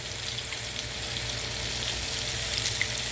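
Shrimp fry in a pan over medium-high heat, making a constant, even sizzle with small crackles, close by and without talk.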